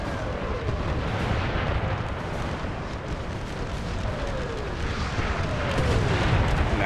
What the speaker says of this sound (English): Now we got ourselves a firefight.